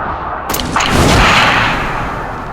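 A single sharp sniper rifle shot in a video game cracks loud and close, then trails off in a rolling, echoing rumble; no one speaks.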